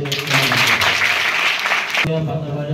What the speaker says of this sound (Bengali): আমাদের রুমখা পালং উচ্চ বিদ্যালয় এবং সবাই মিলে একটা হাততালি দিয়ে